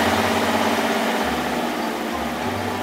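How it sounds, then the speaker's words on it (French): Steady low engine drone from a road roller flattening asphalt, a continuous idling rumble close by with slight shifts in pitch and no speech. "Le tracteur rouleau aplatit l'asphalte avec son rouleau."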